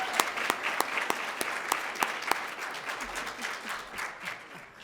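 A crowd applauding steadily, many hands clapping in a dense, continuous patter that holds for several seconds before thinning slightly at the end.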